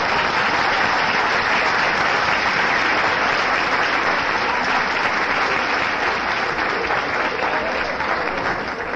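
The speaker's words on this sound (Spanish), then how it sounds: "Un aplauso para ellos, por favor" An audience gives dense, steady applause to the musicians at a live music performance, the clapping loud and close with no speech over it.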